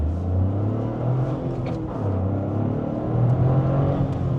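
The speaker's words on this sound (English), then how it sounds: "Man, that engine just pulls." Toyota GR Corolla's small engine pulling hard under acceleration, a steady loud in-cabin drone that rises and falls in pitch as gears change, with no talking.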